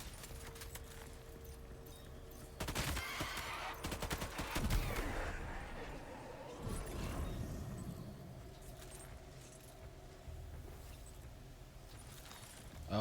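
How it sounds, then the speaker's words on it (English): Assault rifle gunfire in the video game Death Stranding 2 comes in rapid bursts over a few seconds, mixed with clattering effects and a steady game ambience. "Should we try out one of their assault rifles?"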